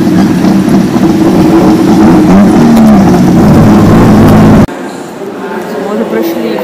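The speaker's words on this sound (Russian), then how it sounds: "Мы остановились, все почти на тук-туке едут." Tuk-tuk engines rumbling in busy Bangkok street traffic, a loud close drone of idling and revving motors that cuts out abruptly near the end, with people talking over it.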